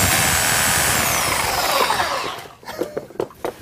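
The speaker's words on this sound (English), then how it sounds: "So we're going to have to cut them off, and for that, we return to our Milwaukee Sawzall." A Milwaukee Sawzall reciprocating saw cuts through a Ford Mustang exhaust pipe, its loud buzzing rasp steady for over two seconds before winding down into a few scattered clanks and knocks.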